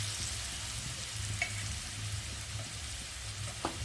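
Potatoes with green chillies, turmeric, salt and chilli powder fry in a pan, a soft low steady sizzle with a few faint clicks of stirring, quiet and without speech.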